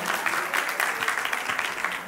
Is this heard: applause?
yes